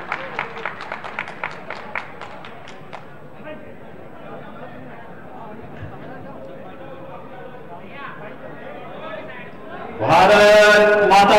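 A crowd in Meerut welcomes Chief Minister Yogi Adityanath with rhythmic clapping at first, followed by a quieter stretch with murmur, then a sudden loud burst of cheering and applause near the end.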